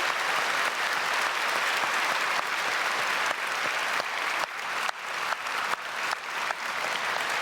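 A church congregation gives sustained applause to welcome a missionary, a thick continuous roar of many hands that holds steady and then turns more uneven toward the end.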